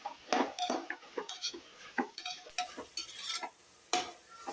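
Crushed shallot, garlic and fennel sautéed in oil for a beef curry, close clattering stirs of a spatula scraping the pan in an uneven rhythm over a light sizzle, no voices.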